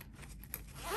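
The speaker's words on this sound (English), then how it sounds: "Let's just zip this up, see if it zips up." A zipper on a large pencil case is pulled shut, with short close ticking zip strokes that build into a longer rising rasp at the end.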